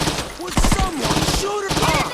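Bursts of automatic gunfire from mercenaries in the video game Saints Row 2, loud and rapid, with a few clustered volleys and shots over a busy game background.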